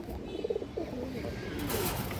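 Female pigeons in a loft coo in low, throaty pulses, most distinct early on, then fade into a steady hiss of ambient noise with no clear speech.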